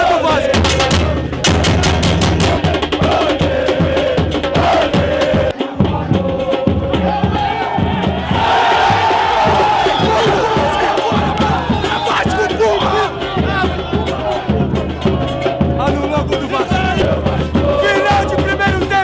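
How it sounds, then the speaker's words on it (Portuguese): Vasco football supporters roar and chant in a packed stadium, a dense, continuous crowd din with rhythmic chanting and sharp bangs scattered throughout. "Que festa absurda na torcida do Vasco!"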